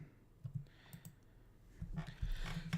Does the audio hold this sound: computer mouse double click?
yes